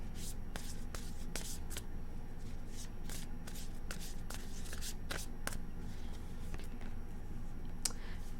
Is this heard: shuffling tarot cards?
yes